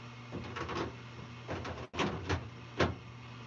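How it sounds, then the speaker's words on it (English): A clothes dryer tumbles, with a steady mechanical hum under irregular soft thumps and knocks. No one is talking. "So the tumbling noise on the dryer is going to be a little noisy"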